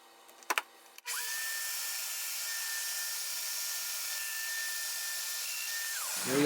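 A Festool Domino XL DF-700 joiner plunges into wood to cut an extra-wide mortise, its motor spinning up with a sharp clack and then holding a steady high whine for about five seconds before winding down.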